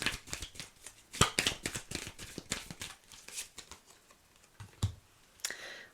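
A tarot card is drawn and shuffled from the deck, with a quiet run of soft papery flicks and taps close by, some sharper snaps among them, and no talk.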